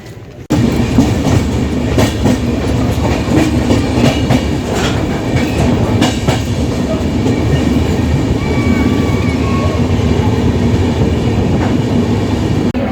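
A train runs out of Delhi Cantt station, starting abruptly into loud, steady rumbling with rhythmic wheel clatter over the rails, close and continuous throughout.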